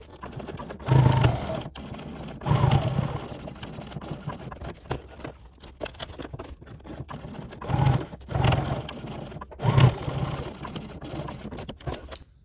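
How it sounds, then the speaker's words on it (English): A sewing machine stitches the seams of a lined pouch with a woven exterior, running in repeated short bursts of whirring, rattling stitches separated by brief pauses. "let's head over to the machine to sew this seam"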